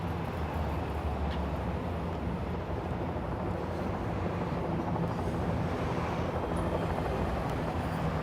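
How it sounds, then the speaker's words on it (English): A helicopter flying overhead at night, a steady, loud, broadband rotor and engine roar that holds continuously throughout with no pauses and no talking. "So why would there be a helicopter overhead us?"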